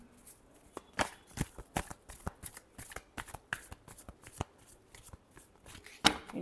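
Tarot cards are shuffled close by in a quiet room, a run of quick crisp riffles and slaps in an uneven rhythm with no talking.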